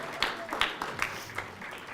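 Brief scattered clapping from an audience at a service-dog graduation ceremony, a few distinct claps over a low murmur of voices.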